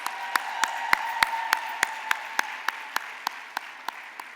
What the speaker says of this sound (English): Let's give another round of applause to Dr. Freda Lewis-Hall and Ms. Phylicia Rashad.